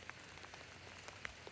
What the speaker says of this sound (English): My dog hates when it's raining outside like it is right now.